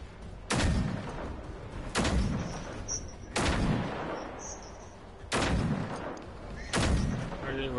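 Gunfire from the video game Generation Zero: five loud, sharp shots at roughly even intervals, each decaying into a reverberant tail, with a faint voice under them.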